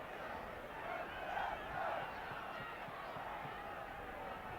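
Crowd noise at a 1982 rugby league tour match between Hull FC and Australia, a steady distant stadium roar with slight swells, heard under a commentator's voice.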